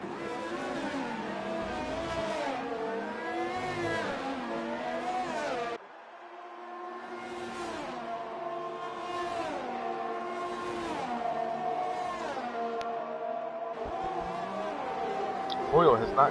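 F1 race cars in the Abu Dhabi round of a racing video game league whine through repeated upshifts and downshifts, engine pitch sweeping up and down continuously, with a brief dip as the view cuts, while commentators talk over the engines.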